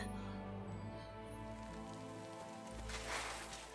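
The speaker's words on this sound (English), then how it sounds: "sounds like the rain's stopping" Rain in the medieval open-world game Kingdom Come: Deliverance II, a soft, steady patter behind low, sustained musical tones, fairly quiet throughout.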